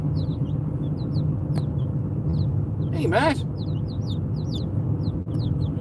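Chickens and young chicks on a farm give repeated high, short peeps over a steady low background hum, with a brief voice partway through.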